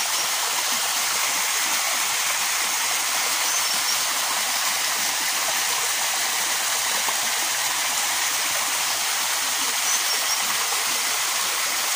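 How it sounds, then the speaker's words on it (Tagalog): Stream water falls hard beneath a bridge, a steady, dense rushing roar at even volume throughout, with no voices over it. "Mabagsak yung tubig."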